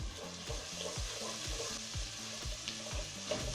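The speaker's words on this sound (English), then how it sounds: "I added a tablespoon of ginger garlic paste, cooked it for about a minute until it turned fragrant." Ginger garlic paste frying with browned onions in a pot, a steady dense sizzle with a faint rhythmic background hum, close and without speech.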